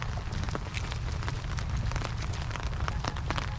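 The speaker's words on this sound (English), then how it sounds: "So here we are, out on a rainy day" Rain falling outdoors during a walk on a rainy day, a steady close patter with scattered sharper drops landing nearby, continuous throughout with no talking.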